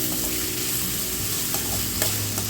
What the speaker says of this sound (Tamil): வெங்காயம் சாஃப்டாக வர அளவுக்கு நல்லா வதக்கிக்கலாம்.